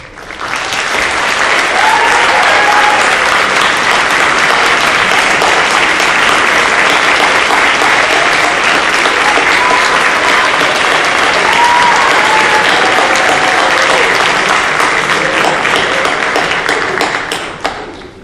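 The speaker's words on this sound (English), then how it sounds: "please rise for a much-deserved round of applause" A large audience applauds world language teachers at an awards night, steady loud clapping sustained for about sixteen seconds before tapering off, with faint voices mixed into the crowd.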